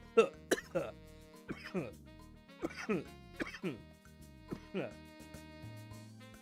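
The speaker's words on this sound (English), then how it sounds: "I'm coughing because, you know, sometimes alcohol goes down the wrong pipe" A string of short, harsh coughs and throat-clearing bursts, close and fairly loud, coming in irregular clusters.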